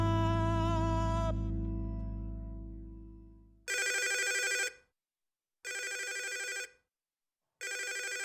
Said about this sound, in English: A phone call, and it would appear it's important.